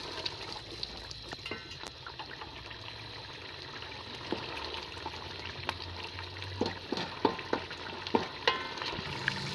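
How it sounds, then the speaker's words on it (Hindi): Meat and yogurt stir-fry in a pan for Pakistani Eid gosht, with a steady sizzle and repeated scraping stirs that grow louder and more frequent toward the end, with no talk. "इसे हम तकरीबन 5 मिनट तक ऐसे ही भून लेंगे"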